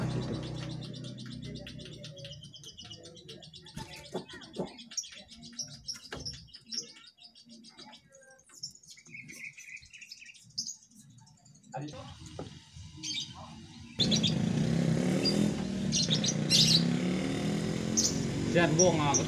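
A small caged songbird chirps in quick, high tweets close by, mixed with people talking and some background noise that grows louder near the end.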